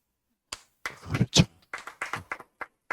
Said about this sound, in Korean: 근데 여러분이 지금 박수를 치고 있는데